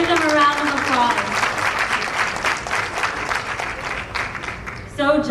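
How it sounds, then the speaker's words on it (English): A crowd applauds contestants at the Miss Pakistan World beauty pageant in Toronto, with dense, sustained clapping that fills the hall and a voice heard briefly at the start and end. "Give them a round of applause."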